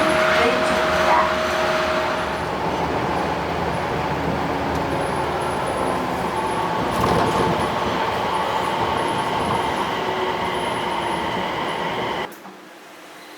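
Busan Line 4, a driverless light rail train, pulls into Anpyeong terminal station with a steady rolling rumble and hum, faint high tones above it, then cuts to near quiet at the end.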